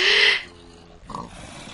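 A single short video game pig oink sounds clearly, followed by a quieter grunt and faint background noise.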